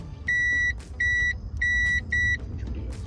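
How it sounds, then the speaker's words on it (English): A continuity tester probing the ignition coil of a 1967 Mustang gives four clear, evenly spaced electronic beeps, each about half a second long, loud and close over a low background hum. "So we'll hear it beep if we have good continuity on our coil."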